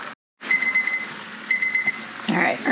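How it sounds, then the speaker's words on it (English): A kitchen timer rings with steady repeated electronic beeps in a home kitchen while green beans simmer in a skillet, fairly loud and close, starting after a brief silence and continuing until a voice speaks over the end. "All right, our timer is going."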